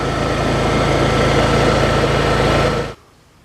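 Honda EU7000iS generator running under load from a shop vac and power tools in a basement, a steady loud engine drone with no change in pitch that cuts off abruptly near the end, leaving near silence.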